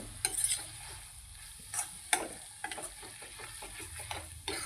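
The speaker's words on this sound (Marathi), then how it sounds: "आता हे मी भाजी मिक्स करून घेते" Vegetables stirred and mixed in a pan with a spoon, a series of scraping, clinking strokes over a gentle sizzle, close and moderately quiet with uneven rhythm and no voices.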